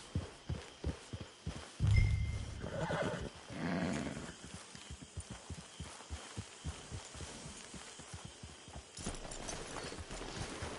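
A horse in the video game Red Dead Online gives one sharp neigh near the start, followed by a steady rhythm of hoof clip-clops walking close by.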